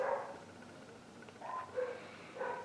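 Several dogs bark in the distance, a few separate bouts of short, muffled barks, faint and somewhat reverberant, with no talking over them.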